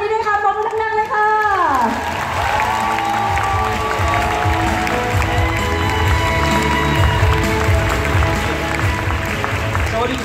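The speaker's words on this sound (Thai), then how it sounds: "ขอเสียงปรบมือหนักให้กับผู้นำทั้ง6ท่านนี้ด้วยค่ะปรบมือหนักเลยค่ะ" Loud crowd applause and cheering for six leaders at the Unilever Network Global Summit 2018, a steady roar of clapping mixed with music whose tones slide downward early on.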